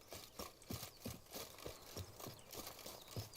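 Roach the horse's hooves clip-clop in a steady galloping rhythm in The Witcher 3, close and distinct over a constant game-world ambience with no talking.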